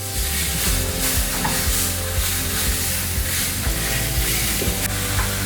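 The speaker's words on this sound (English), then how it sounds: "We're gonna sear the backstrap inside" Whitetail deer backstrap searing in a hot pan indoors before going on the smoker, making a loud, continuous, close sizzle with scattered pops and faint stirring movements throughout, without speech.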